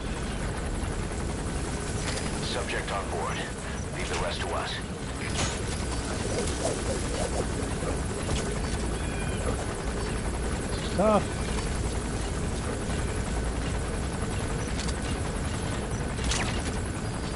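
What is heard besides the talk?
helicopter landing, from the video game Metal Gear Solid V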